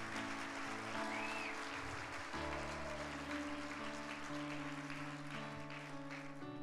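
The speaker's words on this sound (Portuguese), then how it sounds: "Pode dar um aplauso ao Senhor." Congregation applauding during a church worship service, a steady wash of clapping that runs the whole stretch under sustained music and organ-like tones.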